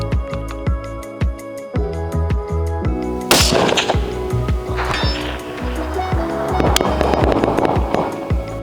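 Repeated sharp shots from an LWRC International sniper rifle crack at irregular intervals at about 1 km range, sounding distant, over a continuous low rumble and background noise.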